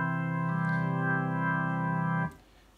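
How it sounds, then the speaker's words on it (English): AcousticSamples B-5 organ played through a drawbar MIDI controller, a steady sustained chord with rich stacked harmonics that thickens slightly partway through, then cuts off cleanly, leaving faint room noise. "here you hear the sound of the organ."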